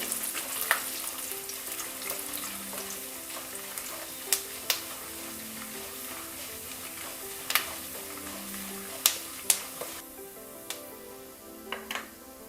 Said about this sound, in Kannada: ಉದ್ದಿನ ಬೇಳೆ ಆ್ಯಡ್ ಮಾಡ್ತಿದ್ದೀನಿ ಇದೆಲ್ಲ ಕಂಪ್ಲೀಟ್ ಚೆನ್ನಾಗಿ ಫ್ರೈ ಆಗಬೇಕು